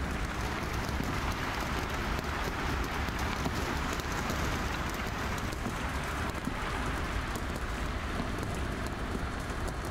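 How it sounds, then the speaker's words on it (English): Steady rain in the horror video game Devotion, a dense continuous patter that stays even and fairly loud throughout with no voices. "And the sound of rain."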